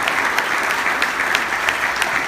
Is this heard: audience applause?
yes